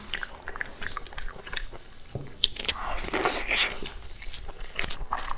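Close, crisp biting and wet chewing of pig trotters at a mukbang meal, with repeated crunchy bites and smacking mastication running steadily throughout.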